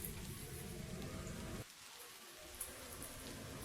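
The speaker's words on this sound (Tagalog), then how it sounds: "Jennifer, ang lakas-lakas ng ulan." Heavy rain pours down in a steady broadband hiss that drops abruptly to a quieter patter partway through, with occasional faint drips.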